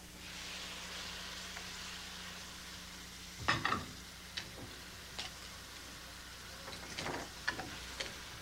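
Chopped tomatoes stirred in a frying pan while making vodka sauce, giving a low steady sizzle broken by a few soft scraping and clinking stirs near the middle and end.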